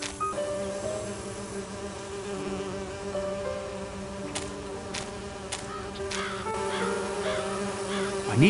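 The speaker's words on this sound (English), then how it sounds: "I need to subdue the bees first." Bees buzz steadily in an audiobook scene set on an island, where someone prepares to subdue them at an artificial hive, with a droning hum throughout and a few sharper clicks and tones partway through.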